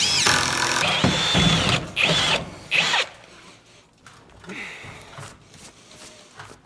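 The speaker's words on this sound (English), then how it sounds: "I do like drilling with the bigger bit, because the wood chips, they just roll off." A power drill with a large bit whirs in a few bursts, biting into wood with a rising whine, then quieter handling noises follow.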